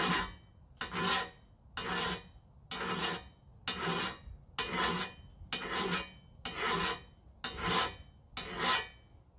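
A hand file rasps against a high spot on new Ford F150 headers in ten rhythmic strokes, each a close, gritty scrape separated by short pauses.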